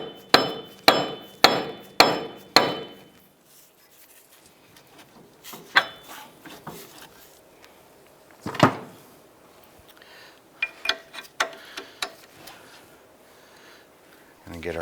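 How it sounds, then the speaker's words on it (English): Five quick, heavy thuds of a dead blow hammer hitting metal while fitting a wheel bearing and hub on a 2001-2007 Ford Escape, followed by scattered clanks and knocks of tools at close range. "With a few persuading bonks of the"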